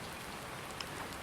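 Steady rain falling in the video game Farming Simulator 19, a dense, even hiss of drops that continues without a break and with no talk over it.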